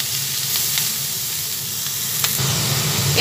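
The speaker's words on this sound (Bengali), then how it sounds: "পেঁয়াজ কলিটা ভাজা হচ্ছে" Onion stalks sizzling in a hot pan with a loud, steady frying hiss up close and a brief stir near the end.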